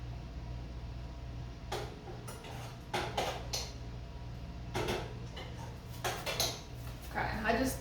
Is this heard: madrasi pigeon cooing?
no